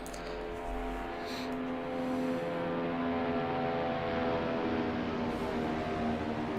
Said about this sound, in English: It sounded like an aeroplane, that safety car.